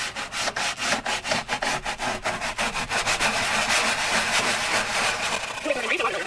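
An abrasive cleaning bar scrubs an air fryer in rhythmic back-and-forth strokes, a coarse rasping like sandpaper, steady and close, blurring into continuous rubbing, with people talking over it.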